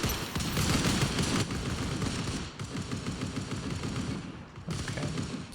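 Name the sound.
assault rifle gunfire in the video game Anarchy Legends Online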